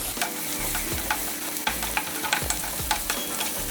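A spinach rice mixture frying in a pan is stirred after turmeric goes in; a continuous loud sizzle carries brisk scraping and tapping strokes of the spatula, with no voices.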